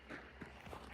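Quick running footsteps from players in a zombie survival video game, a few soft, hurried thuds over a dull background rumble, with no one talking.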